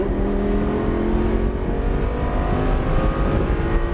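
A race car on the track at Motorsport Ranch accelerates with a steady, loud engine drone heard from inside the cabin, rising in pitch under power.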